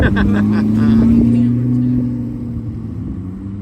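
Corvette test cars, including a C8 ZR1, back up with a deep idling engine rumble and a rising whine that fades after a couple of seconds, with talk over the sound.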